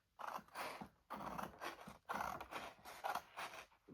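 Scissors snipping through paper along a score mark, a series of close, crisp crunching cuts in short bursts with brief pauses between strokes.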